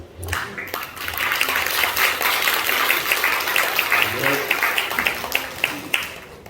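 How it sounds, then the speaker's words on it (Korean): Crowd applause welcoming a pastor to the front at a church celebration service, sustained clapping across the hall with talk and voices mixed in underneath. "나오실 때 큰 박수로 환영하시기 바랍니다"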